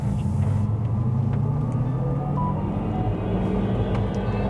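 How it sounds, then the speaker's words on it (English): A 2024 GMC Hummer EV electric truck accelerating onto a highway, heard from inside as a steady, loud low rumble of road and motor noise with a faint synthetic hum, no speech. "Press on the gas a little bit here."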